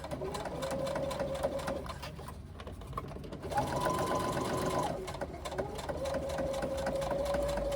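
A sewing machine runs a quarter-inch seam around a fabric pouch, a close, steady mechanical whirr of rapid stitching that pauses briefly and then resumes at an even pace.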